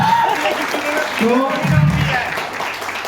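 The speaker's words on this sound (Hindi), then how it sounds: "जोरदार ताली" Audience applause at a creators' announcement event in Phuket, Thailand, a moderate round of clapping mixed with voices talking and calling out over it.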